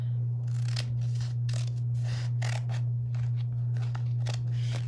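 Scissors snipping through a paper stencil at close range, a series of crisp separate cuts in an uneven rhythm over a steady electrical hum.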